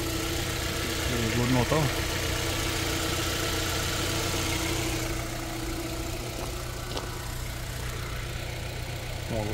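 Car engine idling with the hood open, a steady low rumble with a constant hum, while someone talks nearby over it.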